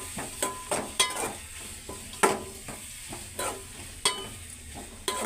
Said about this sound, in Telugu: గోల్డెన్ కలర్ వచ్చేదాకా కొద్దిగా వేగనివ్వాలి